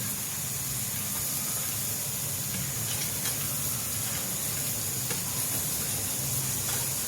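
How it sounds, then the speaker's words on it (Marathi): Cabbage dropped into a hot pan with chickpea flour and semolina for a spicy zunka, giving a steady, dense sizzle and hiss that carries evenly throughout, close and fairly loud, with no talking. "त्याच्यामध्ये काय करायचं आपण कोबी टाकायचं"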